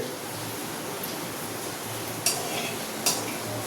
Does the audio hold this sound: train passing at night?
no